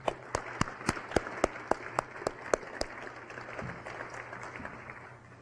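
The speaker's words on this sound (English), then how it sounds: "How about a round of applause for them?" Sparse, distinct handclaps ring out at an engineering prize ceremony, a few sharp claps in a loose rhythm over a quiet room hum, dwindling after about three seconds.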